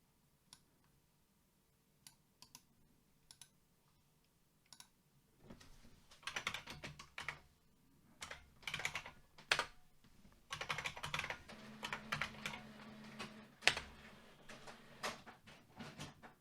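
A password is typed on a computer keyboard, starting with a few sparse, faint keystrokes and then turning into denser bursts of quick clicking with short pauses, close and quiet, with no talking.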